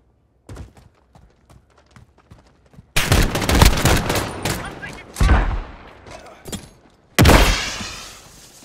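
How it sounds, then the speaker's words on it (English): Gunfire in a 2v2 Alpha match of Call of Duty: Modern Warfare, scattered single shots followed by loud sustained bursts of automatic fire and a final heavy volley, close and dominant. "I'm taking fire!"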